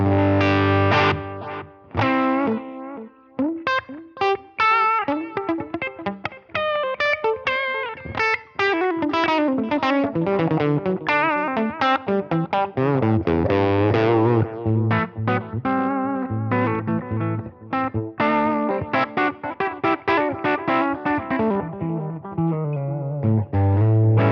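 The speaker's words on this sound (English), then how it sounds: "And the delay if we so desire." Distorted electric guitar through a Line 6 Helix with delay plays a busy, continuous riff with repeating echoes trailing each note, loud and sustained throughout with no voices.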